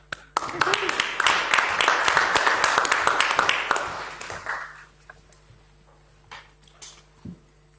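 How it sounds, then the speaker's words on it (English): Audience clapping at a council meeting, a burst of brisk applause lasting several seconds before fading into quiet room noise with a few scattered claps and small sounds. "Give her another clap."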